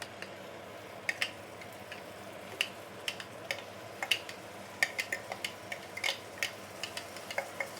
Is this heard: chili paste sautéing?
yes